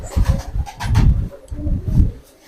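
Rampuri pigeons coo in low, rolling bursts, several throaty calls repeating close to the microphone with brief pauses between, no talk over them.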